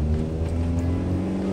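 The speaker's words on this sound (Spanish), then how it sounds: "Escuchando el motor del carro, ustedes van haciendo el cambio." A car engine hums and revs steadily up close during a driving lesson, a low droning tone held for a moment just before a gear change, with no talk over it.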